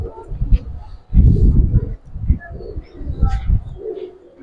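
Pigeons in a home loft collection cooing, low throaty coos rolling on and off near the listener, with soft chirps and rustling and faint talk mixed in.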